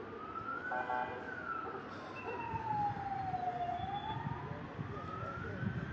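An ambulance siren wails in the distance at a fire in Artvin city centre, its pitch sweeping slowly up and down over a low background rumble of traffic.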